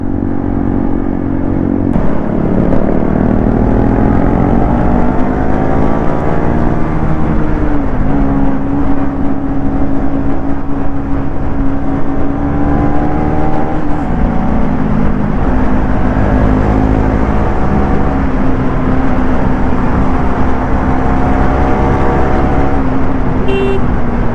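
A group of motorcycles, a KTM Duke 390, a Royal Enfield Hunter and a Yamaha MT, ride together with a loud continuous engine drone and shifting revs, a horn tooting briefly near the start.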